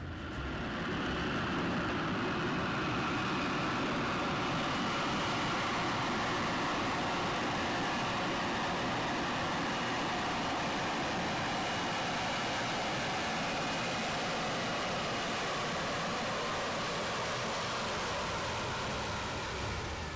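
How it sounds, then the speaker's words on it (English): Harrier II jet engines powering up for a vertical takeoff, a loud, steady broadband roar that holds nearly constant throughout, with no talk. "Within 2 seconds of hearing the engines increase their power, it's in the air."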